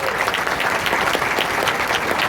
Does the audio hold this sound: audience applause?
yes